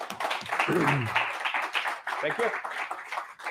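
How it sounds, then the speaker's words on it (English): Audience applause after a talk at a Pint of Science event in Oslo, clapping running underneath a voice speaking over it throughout. "Another round of applause."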